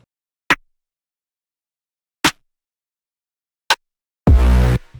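Three short, crisp snare hits spaced apart, each a sharp percussive crack layered from several stacked snare samples, followed by a longer, fuller burst of sound at the end.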